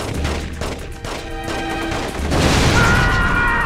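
Gunfire and exploding barrels on a waterfront in the video game The Getaway, heard as loud crashing blasts and a rumbling roar layered with ringing tones, continuous and dense throughout.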